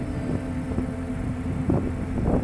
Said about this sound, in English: It's gotten very windy today